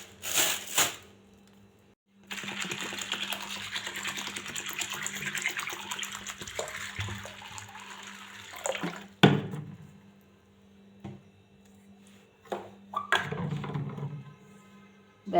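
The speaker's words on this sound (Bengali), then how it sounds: "দেখতে পাচ্ছ মটর ভিজিয়ে রাখছি" Water runs steadily from a tap over dried ghugni peas in a bowl for overnight soaking, a continuous close rushing flow lasting several seconds, then stopping, followed by a few scattered clinks and knocks.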